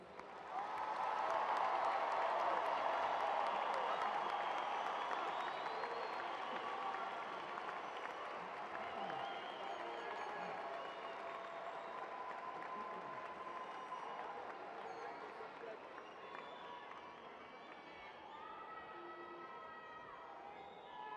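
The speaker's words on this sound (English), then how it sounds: "Please join me in another round of applause for our graduates." Applause for graduates at a May 2017 university commencement ceremony, a long sustained ovation from a large audience in a big hall that starts strong and gradually thins and fades over about twenty seconds.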